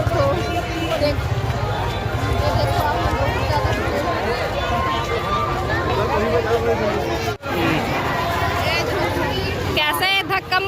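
A packed crowd at the Janakpur fair in Takhatpur presses and jostles, a continuous roar of overlapping voices and shuffling movement, briefly dropping out near the end before the babble resumes.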